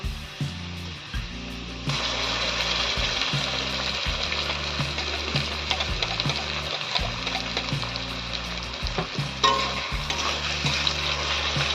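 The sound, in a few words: ground spice paste sautéed with fried potatoes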